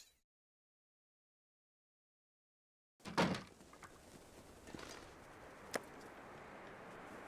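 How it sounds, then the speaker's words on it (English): A front door opening in The Long Dark survival video game: after near silence, one sudden burst of door noise is followed by steady wind-like outdoor ambience with a couple of faint clicks. "stepping out the front door"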